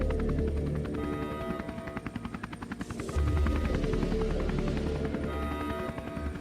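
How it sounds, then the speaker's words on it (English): Coke Jobs attack drone in the video game Neofeud, a loud rapid rotor chop with an engine drone that swells as it passes close by, heard alone with no talk. "That's the Coke Jobs attack drone that hit us at the Capitol."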